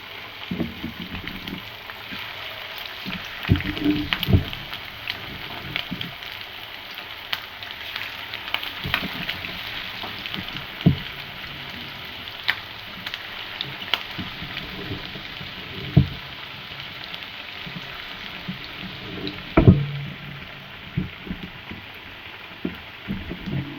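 Chicken pieces deep-frying in hot oil for chilli chicken, a steady dense sizzle with scattered louder pops and crackles throughout, close and continuous with no talking.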